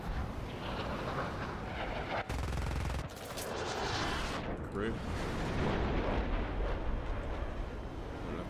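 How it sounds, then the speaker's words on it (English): Aircraft cannon fire in War Thunder around an F-100D Super Sabre jet, a loud, continuous rattling stream of rapid shots over roaring engine noise, with a short break near the middle. "Oh, I thought you were shooting at me."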